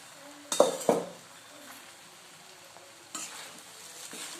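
Cooked rice being stirred into masala in a pan, with a couple of sharp spoon clinks against the metal followed by softer scraping stirs and a faint sizzle, close by.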